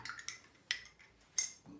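A metal spoon clinks against a container while stirring two spoonfuls of salt into water to dissolve it, four or five quiet, sharp taps spaced irregularly in near silence.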